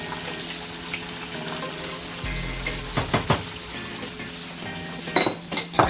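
Chicken fries in hot oil with a steady close sizzle as jerk marinade goes into the pan, bringing a few brief splattering bursts and soft stirring knocks.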